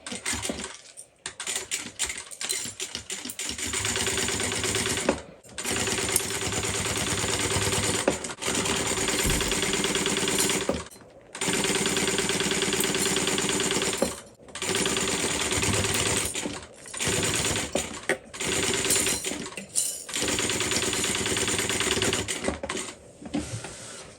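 A sewing machine runs a seam on a Coupeville tote bag at full seam allowance, in long steady bursts of fast mechanical stitching separated by brief pauses, loud and close throughout.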